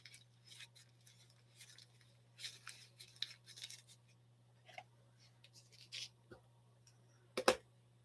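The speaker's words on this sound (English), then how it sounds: "Let's wrap this back up in its original Champion paper." Paper being wrapped around a vintage Champion spark plug: soft, intermittent rustles and crinkles close by, with a sharper crumple near the end over a steady low hum.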